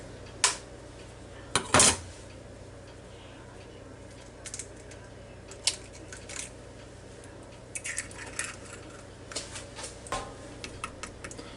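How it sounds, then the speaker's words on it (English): A single egg is beaten in a bowl with light, irregular clinks and taps of utensil on dish, one louder clatter near the start, then quieter scattered ticks over faint background noise. "I'll beat this egg up."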